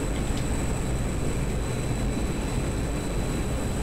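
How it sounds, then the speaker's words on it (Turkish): Emergency afterburner of a MiG-21bis jet engine in the DCS World flight simulator, a steady, loud broadband roar that holds without break, with a thin high whine running over it and no talk. "Acil durum Afterburner'larını kullanıyorum size göstermek için."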